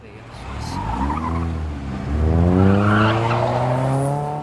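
A car skids with screeching tires and strikes a zombie in a movie scene, the squeal rising and holding loud over a low engine rumble for several seconds.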